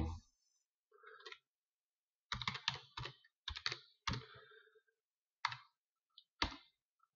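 Bursts of key presses on a computer keyboard while an e-mail address is entered, clustered clicks separated by short pauses, close and clear with no speech.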